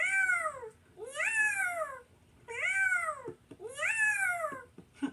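Cat meows four times in a quiet space, drawn-out rising and falling cries spaced about a second apart, clear and fairly close with no talking.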